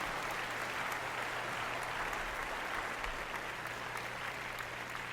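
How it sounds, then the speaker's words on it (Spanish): A church congregation claps during a Sunday morning service, a steady, dense wash of applause that holds evenly for several seconds at moderate distance. "Denle un fuerte aplauso"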